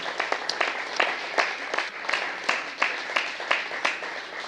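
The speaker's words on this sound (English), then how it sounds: "we can clap for that." A church workshop audience on addiction recovery gives a steady round of applause, many hands clapping together at moderate distance, with no voices over it.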